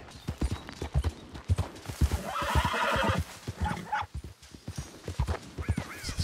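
A horse in Red Dead Redemption 2 gallops up with rhythmic, close hoofbeats and lets out a loud neigh partway through, the clopping continuing after.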